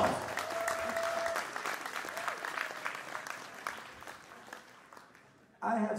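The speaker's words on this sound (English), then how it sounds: "a big applause." An audience at a Rwandan cultural celebration in Stockholm breaks into steady, fairly distant applause that carries on for several seconds, with a voice heard before a louder burst at the end.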